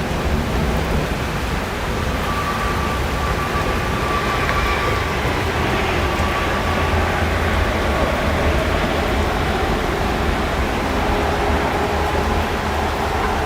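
Steady, dense hiss of heavy rain pours down during a severe storm in Stockbridge, Georgia, a constant loud wash with no breaks.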